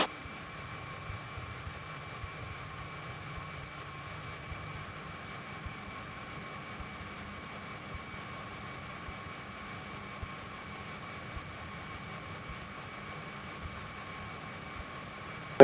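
Steady drone of a Cessna light aircraft engine on approach to land, a constant hum with a sustained tonal whine heard from inside the cabin, unchanging throughout and with no talking.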